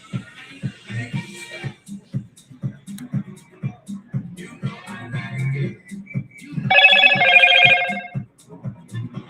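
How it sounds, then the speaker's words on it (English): A Motorola Moto G Pure mobile phone rings with a bright repeating tone for a couple of seconds partway through, surrounded by people talking at a live panel. "Sorry, guys, that's my phone."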